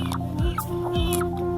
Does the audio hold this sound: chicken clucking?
yes